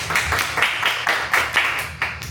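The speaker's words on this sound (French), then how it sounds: "vous l'applaudissez" Audience applause for drummer Hervé at a concert, a steady wash of many hands clapping with loud bursts swelling and fading roughly every half second.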